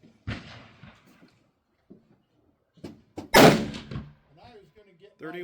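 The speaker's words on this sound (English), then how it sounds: "we are going to be shooting the 168 grain TTSX and 30-06 with N550" A 30-06 rifle loaded with 168 grain TTSX bullets over N550 powder fires a single sharp, loud report outdoors, set among brief bits of quiet talk before and after.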